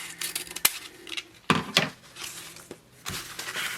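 Scissors snip through ribbon while a Christmas decorative bow is trimmed, giving a few sharp, close cuts with small rustles between them.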